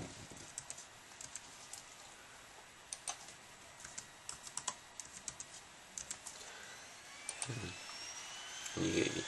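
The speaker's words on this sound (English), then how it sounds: "then type my password" A password being typed on a computer keyboard: a rapid, irregular run of light plastic key clicks, fairly close and clear over a faint steady hum, ending with a brief louder clatter.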